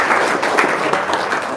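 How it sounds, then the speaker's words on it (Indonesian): Studio audience applause breaks out in a brief burst of steady clapping, fairly loud and close, with no voice over it. "Tepuk tangan dong, luar biasa."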